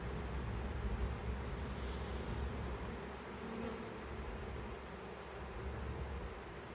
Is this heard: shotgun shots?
no